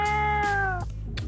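A pampered show cat at a cat singing audition gives a loud, close, drawn-out meow with a sliding pitch, then a couple of shorter, quieter mews trailing after it.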